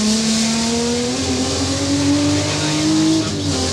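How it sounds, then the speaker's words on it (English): Group A BMW touring car racing at the 1984 Bathurst 1000, its engine howling loud and steady from an onboard position, the pitch climbing through the revs and dropping briefly at gear changes. "Listen to the gear changes."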